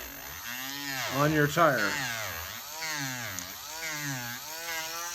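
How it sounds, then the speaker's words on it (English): A Dremel rotary tool whines steadily while gently sanding a slick RC car tire, its pitch wavering under continuous close-up talk. "you turn your Dremel on, and you can actually sand real gently like this"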